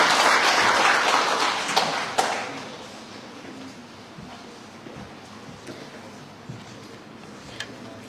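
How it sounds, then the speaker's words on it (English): An audience at a university entrepreneurs' day celebration in Manipur claps steadily, loud at first, then thinning out to scattered claps and fading into a quiet room. "Please give her a round of applause."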